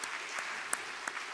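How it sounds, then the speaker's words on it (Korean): A church congregation at a Sunday afternoon service claps in encouragement, a faint, distant patter of applause with a few sharper individual claps standing out. "우리 사랑 플러스 단원들한테도 한번 격려의 박수 보내주시죠."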